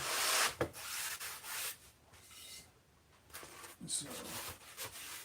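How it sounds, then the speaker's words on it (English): Sanding bar rubbing against a foam model-aircraft wing: bursts of rough, hissy scraping strokes, close and moderately loud, pausing briefly midway before resuming. "just keep the sanding bar away from the foam"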